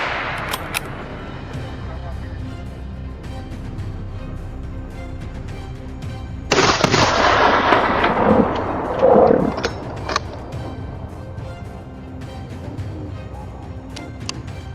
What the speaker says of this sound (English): Gunshots echo non-stop, scattering the herd in panic.